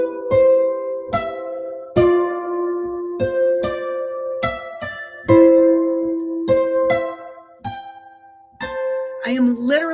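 Plucked harp plays a melody with sixth-interval shapes struck on each downbeat, bright ringing notes in a steady lilting rhythm, close and clear with no talk.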